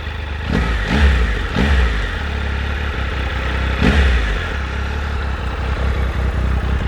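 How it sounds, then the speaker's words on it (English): A 2019 Triumph Tiger 1200 XRT motorcycle engine idles with a deep rumble, then gets a few quick blips of the throttle that rise and fall, close by, with no talking. "Let's give it a little rev."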